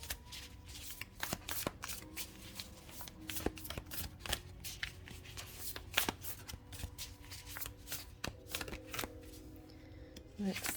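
Starseed Oracle cards are shuffled by hand, giving a rapid series of crisp, close riffling and slapping sounds that continue steadily through the stretch while a person speaks quietly at times.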